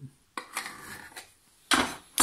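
A knife saws through stuffed semolina Turkish bread filled with ground beef, in a few scraping strokes that end in two loud, crunchy cuts through the crust.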